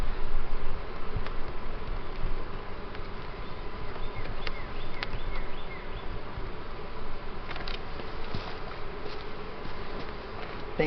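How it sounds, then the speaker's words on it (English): Honey bees swarm over frames during a hive split, a dense, steady buzzing that fills the air close by, with individual bees passing near, no talking. "Nurse bees all over it."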